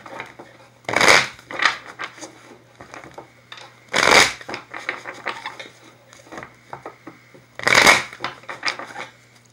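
Tarot cards being shuffled close by, three loud riffling bursts at intervals with softer handling taps and rustles in between.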